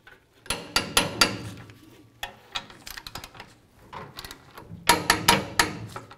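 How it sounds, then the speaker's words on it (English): A wrench snugs and torques the rear brake caliper bracket bolts on a 2004–2010 Dodge Ram to 100 foot-pounds. Close metallic clicking comes in quick bursts, then scattered ticks, then another loud flurry of clicks. "We're going to snug up these bolts and then we're going to torque them to 100 foot-pounds."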